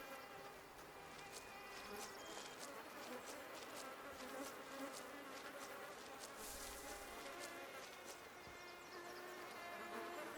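Steady, high-pitched mosquito buzzing fills the air, several wings whining at once without pause, close and continuous over a faint outdoor hush.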